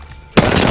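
An Alternator submachine gun hip-firing in Apex Legends, a sudden loud burst of rapid automatic gunfire that starts after a brief quiet moment and keeps going to the end.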